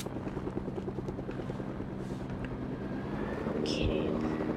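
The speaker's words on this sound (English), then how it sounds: "There's actually like two helicopters in front of me and in back of me." Video game helicopters hover nearby in a continuous rotor drone under a player's talk, with a few faint in-game effects.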